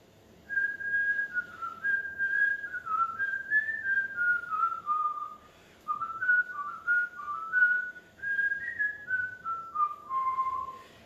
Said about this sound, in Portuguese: Porque eu assobiei o contorno, eu assobiei a melodia principal da música